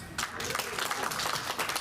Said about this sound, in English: Round of applause if you've been married more than 20 years.